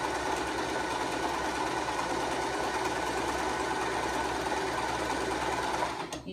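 A sewing machine hums steadily and close, stitching the elastic channel of a girl's dress without pause until it stops at the very end.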